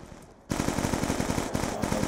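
A PDW submachine gun in Black Ops II firing on full auto, a loud, sustained, rapid stream of shots that starts abruptly after a brief quiet moment and continues without a break.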